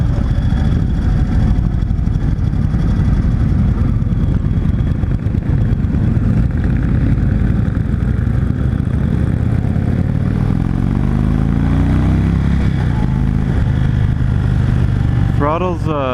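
A 2016 Indian Chief Dark Horse motorcycle rumbles steadily while riding on a test ride, its deep engine drone loud and constant under wind noise, with a rider talking over it and a brief rising whine near the end.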